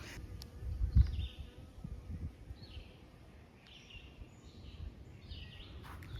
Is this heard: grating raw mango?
no